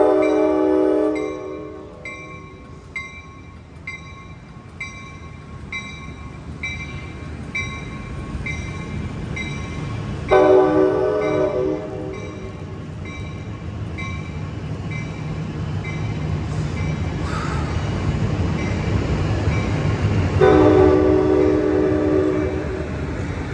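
Amtrak Capital Corridor train led by an SC44 Sierra Charger locomotive at Oakland Jack London Square, with a loud horn sounding in repeated blasts over the rumble of the train passing close by.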